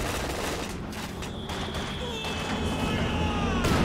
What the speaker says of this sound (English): that was an epic mortar shot